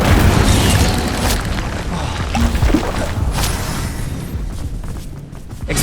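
A fiery Incendio spell bursts out in the Hogwarts Legacy game, a loud, dense whooshing boom that roars steadily for several seconds amid busy in-game combat noise, thinning slightly near the end.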